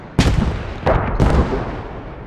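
Mortar rounds fire in the tactical shooter game Squad: two heavy booming shots about a second apart, each trailing into a rumbling decay, loud and close with no voices over them.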